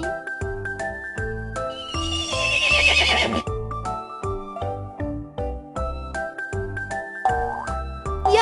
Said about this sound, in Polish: Koń!